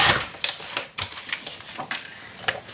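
Scissors cutting paper along a marked line during a craft project, with a series of crisp, close snips at an uneven rhythm.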